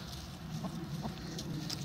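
Soft rooster clucks, a couple of short low calls close by over a steady background hum.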